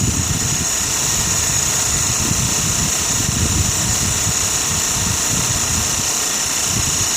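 A small Sirius steam engine driving an alternator runs steadily at close range, a constant mechanical drone with a high whine on top, loud and unbroken.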